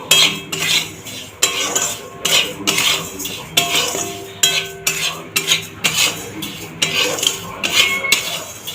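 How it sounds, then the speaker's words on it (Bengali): A utensil stirs and scrapes sugar in a metal pan as it melts for a homemade birthday cake, with steady rhythmic clinks and scrapes repeating roughly every half second, close and clear with no talk. "এটাকে আমি এবার চিনিটা যতক্ষণ না গলে ততক্ষণ আমি এটাকে নাড়তে থাকবো, পুড়ে যেন না যায়"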